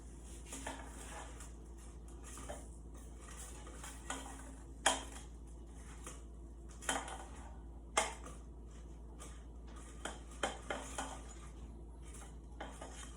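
Utensil clinks and scrapes against an air fryer basket while food is turned over, a handful of sharp metallic taps scattered across a quiet kitchen background.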